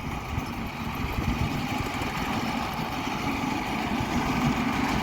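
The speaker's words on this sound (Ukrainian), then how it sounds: "швидше трактор їде" A tractor engine runs throughout while sowing winter barley, at a constant low drone with a rough, rumbling texture, fairly close and without any talking.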